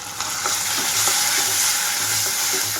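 Soaked, cooked moong dal going into a pan of onions frying to a light golden colour, with a steady, loud sizzle and a few soft stirring scrapes throughout, no talk.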